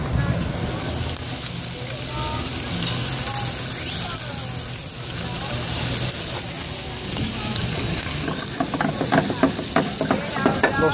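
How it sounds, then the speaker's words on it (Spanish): Seafood sautéing in a hot pan for a seafood pasta, with steady crackling sizzle and stirring scrapes that grow busier toward the end, close by, with someone talking over it. "agregamos los mariscos, los salteamos"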